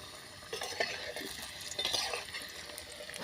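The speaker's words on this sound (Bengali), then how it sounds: "এই যে আলু ভাজা হচ্ছে" Potatoes frying in a pan outdoors at a picnic, with soft stirring scrapes and a low, steady sizzle at moderate distance, no voices.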